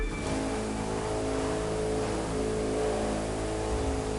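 Hypercar engines racing in The Crew 2, with a Saleen S7 and a second-generation Ford GT among the pack, roaring as one steady, loud, sustained drone that runs unbroken for the whole stretch.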